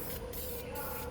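Aerosol spray paint hisses in a steady continuous burst, close and fairly loud, as light coats go onto Lexus LX470 wheels.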